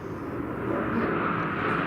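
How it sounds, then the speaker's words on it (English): A continuous broad roar of a jet passing overhead, steady and fairly loud, slowly swelling with no other sounds. "All these goddamn jets."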